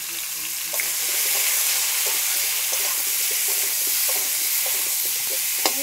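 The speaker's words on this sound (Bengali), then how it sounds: "এবার আমি কচুটা ভেজে নেব।" Pieces of taro root frying in hot oil in a wok give a steady, close sizzle throughout, with faint scattered clicks and pops over the hiss and no talking.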